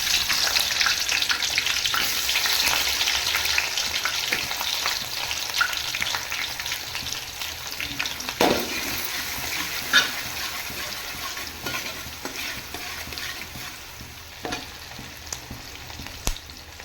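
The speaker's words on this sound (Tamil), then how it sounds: "நம்ம வெங்காயம் சேர்த்துக்கலாம்" Onions fry in hot groundnut oil and ghee for a turkey biryani, giving a dense, constant crackling sizzle. Occasional spoon scrapes and clinks against the pot break through.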